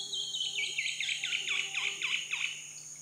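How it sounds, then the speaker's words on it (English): An Amazon kingfisher calls beside a creek in Belize, a rapid series of sharp, descending chattering notes repeating about eight times, clear and fairly close over a quiet hum of insects. "An Amazon kingfisher calls to his mate."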